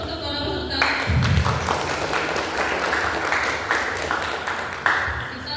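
Applause for participants at a regional history quiz competition in West Sumatra, a steady wash of clapping from an audience lasting several seconds, loud and continuous.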